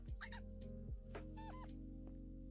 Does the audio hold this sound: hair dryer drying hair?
no